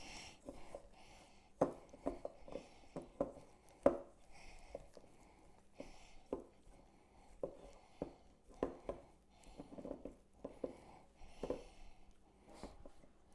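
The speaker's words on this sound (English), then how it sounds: "Now we're going to mix this all up." Spoon mixing a butt rub and cayenne filling for bacon-wrapped BBQ pig shots, heard as a string of soft, irregular scraping and clacking strokes against a bowl, close and fairly quiet with no talking.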